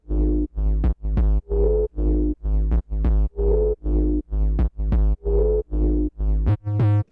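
Two synth sub basses sharing one compressor in a club-style electronic track play a steady pumping pattern of evenly spaced, deep sustained notes, each cut off sharply in a regular rhythm, loud and close with no talking.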